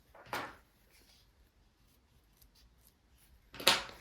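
Scissors snip the corner of fabric on a cropped garment: two quick, crisp cuts about three seconds apart, close and clear against a quiet room.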